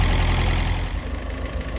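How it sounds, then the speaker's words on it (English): A Sunbeam Alpine's engine runs hot at a steady idle, close and loud, a constant low rumble with no talking over it. "We've run the engine now until it's nice and hot."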